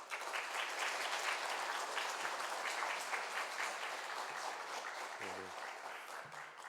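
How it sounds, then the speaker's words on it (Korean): Church congregation applauding to welcome a missionary at a Friday mission prayer meeting, dense steady clapping filling the hall and tapering slightly near the end. "우리 함께 큰 환영의 박수, 축복의 박수 함께 하겠습니다."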